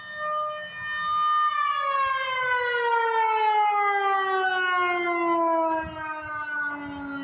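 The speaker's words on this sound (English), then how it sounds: "I don't know why the siren's going off." A loud outdoor warning siren sounding in a park at dawn, a steady, sustained rich harmonic wail that slowly slides downward in pitch, heard alone at length over faint background noise.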